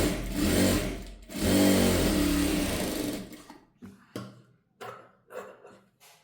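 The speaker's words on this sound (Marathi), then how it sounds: "त्याच्यानंतर इकडनं आपल्याला एक एक शिलाई देऊन घ्यायची." A sewing machine runs in two long loud bursts of stitching on a princess-cut blouse, then stops and starts in several short runs as seams are sewn one stitch at a time.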